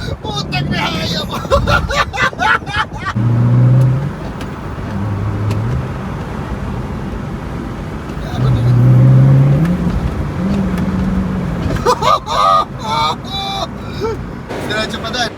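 A Chevrolet Corvette being driven, with its engine revving up in two strong pulls heard from inside the car, while several people talk and exclaim loudly over it.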